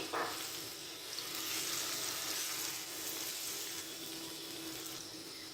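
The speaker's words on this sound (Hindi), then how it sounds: "एक पैन के अंदर हमने ऑयल गरम कर लिया है। अब हम इसमें मैरिनेट किया हुआ चिकन ऐड करेंगे।" Marinated chicken frying in hot oil in a pan, a broad continuous hiss that stays fairly quiet and even, with no voices.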